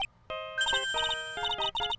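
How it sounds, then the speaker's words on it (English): A phone rings in Phoenix Wright: Ace Attorney Trials and Tribulations with a bright electronic ringtone of rapid, repeated chiming beeps in quick bursts, sounding clearly on its own. "Hey Nick, your phone's ringing."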